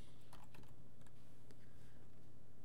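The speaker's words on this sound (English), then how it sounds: "And we're gonna type that in." Soft, quick keystrokes on a computer keyboard, a brief irregular burst of typing heard close and quiet against a faint steady hum, with no talking.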